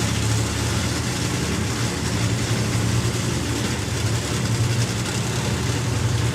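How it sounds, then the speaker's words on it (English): A drag racing car at a Bug Jam festival meeting, with its engine switched from methanol to nitro, sounds at full strength with a loud, harsh, crackling cackle. The roar is heavy and continuous throughout, with no talk. "You heard the engine change there from the methanol to the nitro cackle."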